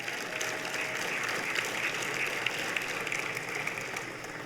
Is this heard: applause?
yes